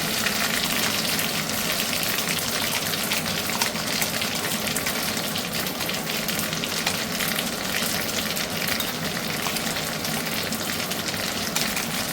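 Kharkol leaf paste frying in hot mustard oil in a wok over medium heat, giving a steady, close, dense sizzle with faint stirring scrapes and no talk.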